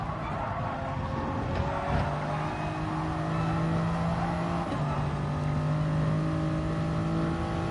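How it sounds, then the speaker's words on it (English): A car engine in a racing video game, running steady and smooth with sustained tonal hum and gear-like pitch shifts, loud and continuous with no talk. "It sounds so tame, this car, compared to the FT1. FT1 screams in your ears."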